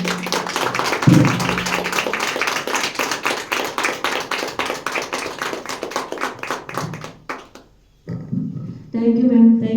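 An audience claps heartily for Ayurveda doctor Dr. Rachna Bharti at a podcast talk: dense, steady clapping for about seven seconds, then thinning out and stopping before a voice speaks.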